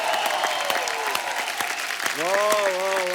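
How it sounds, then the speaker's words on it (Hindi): An audience claps for performers at a comedy tribute show, steady applause heard alongside someone speaking over it and a sung or sustained voice rising near the end. "एक बार हमारे तमाम कलाकारों के लिए जोरदार तालियां।"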